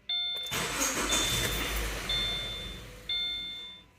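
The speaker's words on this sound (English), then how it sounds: "Start the engine." A 2016 Subaru Forester with a freshly replaced CVT solenoid cranks and catches, its engine settling into a steady idle close by, with dashboard chimes ringing at the start and again partway through.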